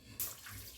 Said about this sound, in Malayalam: ഇതിന് 1 കപ്പ് പാലാണ് ഞാൻ ഒഴിക്കുന്നത്